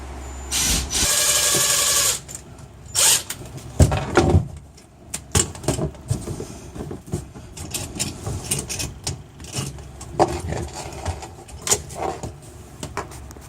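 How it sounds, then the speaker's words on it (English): A hose clamp is fastened onto a bilge pump hose: a loud opening burst from a power driver, then a run of short clanks, knocks and tool scrapes at close range, with no talk. "I'm going to attach the clamp now"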